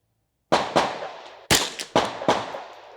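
Five sharp gunshots ring out at an outdoor shooting range during chronograph testing, a spaced pair followed by three more in a quicker run, each blast loud and close with a short decaying echo.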